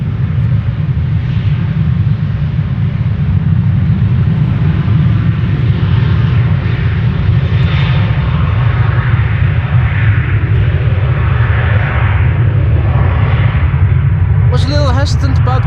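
Boeing 787 Dreamliner bound for Sao Paulo on the runway at Amsterdam Schiphol, a steady loud low jet rumble running continuously throughout, with faint higher engine whine drifting over it.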